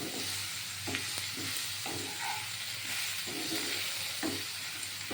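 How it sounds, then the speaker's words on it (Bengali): Potatoes being sautéed in a pan with fried coriander, fennel and chili powder for a Bengali mourala fish chorchori, giving a steady close sizzle broken by several short scraping stirs. "রান্নাটা এইটা দিয়ে এবার আলুটা কষানো হবে"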